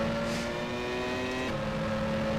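Engine of a 1996 Formula 1 car in rFactor 2 at Magny-Cours, a steady high-pitched whining drone at moderate level that drops in pitch halfway through, as on an upshift or lift.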